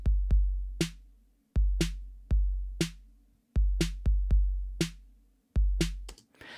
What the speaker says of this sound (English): In this scenario, I have a beat that I would like to add some hi-hat to.